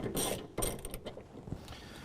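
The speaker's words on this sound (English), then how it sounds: "Just going to loosen these up using our Performance Tools 14mm socket and ratchet." A 14mm socket on a ratchet works loose suspension bolts at a strut tower on a car, giving a short run of quiet clicking and ratcheting that stops and starts, with no talk.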